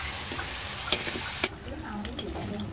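Duck meat stir-fried in a pot for a Southern Vietnamese coconut-milk noodle dish, with a steady loud sizzle and a few sharp clatters of stirring. The frying settles slightly quieter after a brief scrape.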